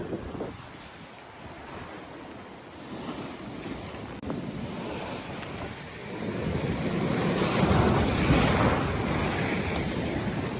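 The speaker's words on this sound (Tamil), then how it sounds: "அப்ப வந்து இப்ப பாத்தீங்கன்னு சொன்னா கடலும் வந்து வேகமா அடிச்சு கொண்டு இருக்கு." Rough storm-driven sea surf crashes onto Moorkam Beach in Jaffna under strong wind buffeting the microphone. The roar is continuous and swells louder in the second half, with no voices.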